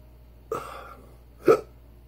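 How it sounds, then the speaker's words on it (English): Two distinct hiccups about a second apart, each a short sharp vocal catch, close and clear over a quiet background hum. "Now I'm starting to hiccup."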